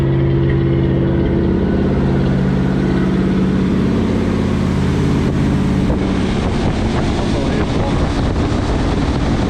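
A 1966 Oldsmobile Toronado, left sitting for 11 years, runs at high idle with a leaking exhaust-to-manifold joint, giving a loud, steady, rumbling drone with wind-buffeted roar and no pauses.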